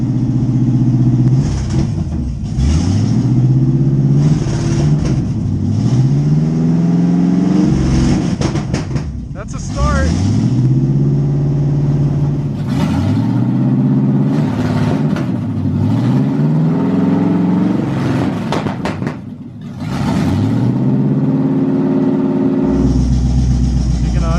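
A C4 Corvette engine runs after a carburetor swap, rising and falling through repeated rev swells before dropping toward a rough idle, loud and close with people talking and cheering over it.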